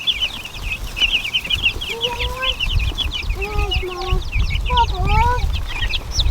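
Several chickens cluck in a farmyard, with a steady run of short calls and a few louder squawks close by over constant background noise.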